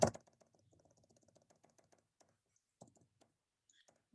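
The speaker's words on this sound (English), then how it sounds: "Let's keep typing." Soft keyboard typing during a Microsoft Word lesson, a quick run of light clicks followed by a few scattered key presses, quiet and close with no talking.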